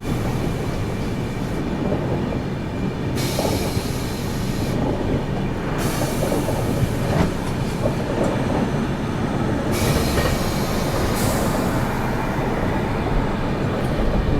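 The Tamil Nadu Sampark Kranti Express runs at speed on an Indian railway line while overtaking a stationary train, producing a loud, steady rumble with rattling and clatter heard from on board, and no talking.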